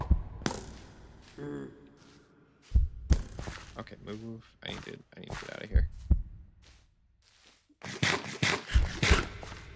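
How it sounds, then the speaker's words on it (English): Low, thudding heartbeat effect from a video game pulses through the scene in short throbbing beats, partly masked by a player's talk and other game noises. "Okay, the heartbeat is freaking me out."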